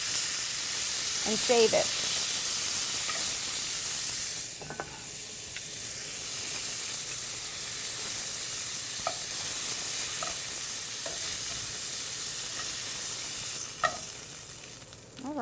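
Meat sautéing in a hot pan, bone-in and boneless pieces being turned, gives a steady hissing sizzle throughout, broken by a few scraping turns and clinks, with brief talk over it.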